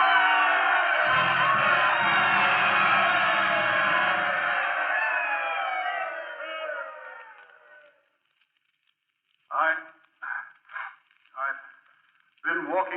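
A big ballpark crowd in a radio drama about Lou Gehrig rises to its feet in a long, loud sustained roar and cheer that slowly fades out, followed by someone speaking in short phrases.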